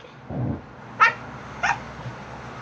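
A small dog gives a low grunting rumble, then two short, high yelping cries about half a second apart, close by in a quiet room with no talking.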